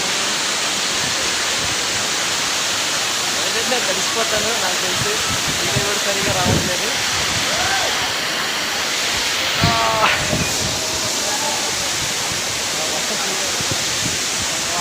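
Heavy rain pours at Bhairavakona waterfall in a dense, constant roaring hiss of falling water that lasts throughout, with people talking faintly underneath.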